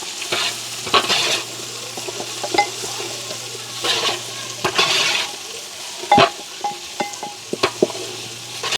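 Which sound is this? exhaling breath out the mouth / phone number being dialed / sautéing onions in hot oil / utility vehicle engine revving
sautéing onions in hot oil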